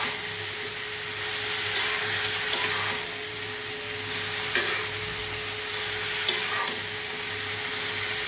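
Curry being sautéed in a pan, a steady broadband sizzle with a low hum beneath it and occasional faint scrapes of a spoon, close and continuous, no talk.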